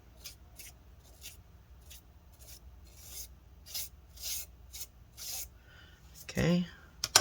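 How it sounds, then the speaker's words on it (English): A brush sweeps dust from inside a Dell Inspiron 7591 2-in-1 laptop in short, quiet bristly strokes, repeated in a loose rhythm, with a louder scrape near the end. "Let's use the brush to clean this up."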